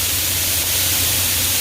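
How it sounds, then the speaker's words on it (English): Wasp spray hisses from an aerosol can aimed at a wasp nest, a steady close broadband spray with no pauses and no talk. "So we got some wasp spray."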